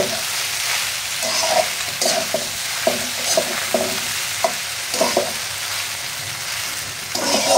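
Pasta with two packets of Maggi masala is stirred in a pan, a spoon scraping and knocking in repeated strokes over a steady sizzle of frying.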